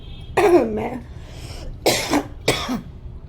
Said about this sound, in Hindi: गले में भी थोड़ी खराश सी हो रही है क्योंकि खांसी हो रही है।